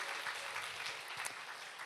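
A church young adults' congregation at a worship service claps together, a faint, steady patter of many hands filling the room at a distance, with no voices over it.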